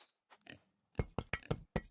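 Pig oinking in a video game, a string of short snorting grunts in quick succession with a sustained tone in the background, fairly close and clear, alone without talk.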